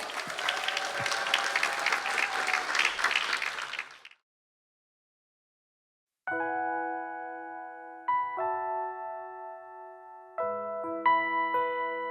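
Applause from a worship concert audience fills the first four seconds, then stops abruptly into silence before sustained keyboard chords enter and shift in a slow sequence.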